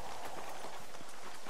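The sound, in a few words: horse hooves clip-clopping, video game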